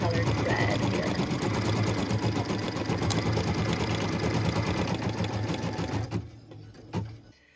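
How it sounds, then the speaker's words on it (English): An embroidery machine stitches a felt Christmas ornament in neutral white thread, a close steady rapid mechanical hum and clatter that stops near the end, with a person talking over it. "And I'm just stitching all of this in our neutral colored thread here."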